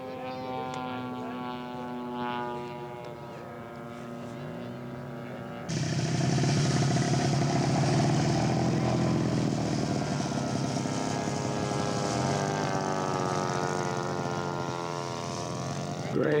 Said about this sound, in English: Greg Thomas with his Spitfire. Very nice.